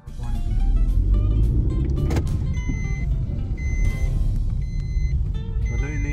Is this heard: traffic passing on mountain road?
yes